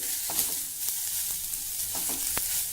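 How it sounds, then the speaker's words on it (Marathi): Ridge gourd peels and green chillies fry in oil, a steady close sizzle broken by a few sharp spatula scrapes and taps against the pan, with no talking. "तेलावर ह्या दोडक्याच्या शिरा देखील आपल्याला भाजायच्या आहेत"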